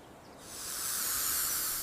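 A snake hisses in a long, steady, breathy rush that swells after a short quiet start and holds loud to the end, with no voices.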